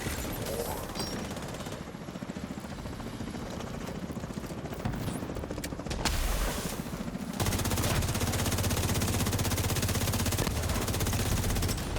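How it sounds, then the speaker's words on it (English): A helicopter sets down in a video game: a steady, loud rotor roar mixed with rattling automatic gunfire, and the engine thrum thickens and grows louder toward the end. "chopper's setting down"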